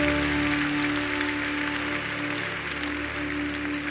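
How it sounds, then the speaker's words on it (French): Church congregation applauding to acclaim Jesus, a dense, steady wash of clapping over a held organ or keyboard tone, moderately loud and continuous throughout. "Acclame Jésus"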